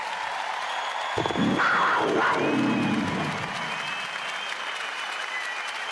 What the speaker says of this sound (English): Please, a big round of applause for Damian Martin.